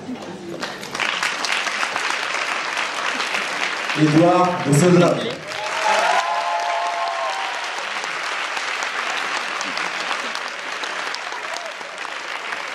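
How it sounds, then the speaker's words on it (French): Sustained crowd applause welcoming candidates of an eloquence contest semi-final, a continuous roar of clapping with a man announcing a name over it partway through. "je vais vous demander d'accueillir avec un tonnerre d'applaudissements"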